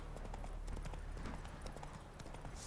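Hoofbeats of Roach, the horse in The Witcher 3 video game, clatter in a steady galloping rhythm throughout, fairly close and loud over constant game ambience.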